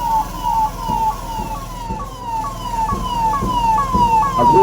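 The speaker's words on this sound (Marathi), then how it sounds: "एका वाहनातून देखील या ठिकाणी अग्निशमन दलाचे संचलन सहभागी होत आहे." A fire brigade vehicle in a Republic Day parade at the Nanded police headquarters sounds its siren close by. It plays a loud, fast-repeating falling wail over a low engine rumble.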